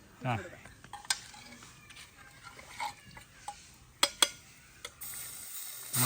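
A spoon scrapes and clinks against a cooking pan in irregular strokes while making Kerala-style beef roast, with a few sharp metallic knocks and faint sizzling beneath.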